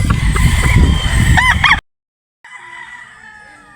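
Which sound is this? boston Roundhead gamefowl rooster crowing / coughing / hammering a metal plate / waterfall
boston Roundhead gamefowl rooster crowing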